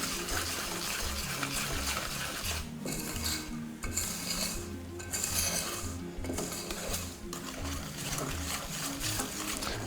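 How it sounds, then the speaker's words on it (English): Bicarbonate of soda being mixed into malva pudding batter in a bowl, with a spoon or utensil clinking and scraping in a steady, busy rhythm close by, with no talking. "then 1 teaspoon of bicarb, and then we mix that as well"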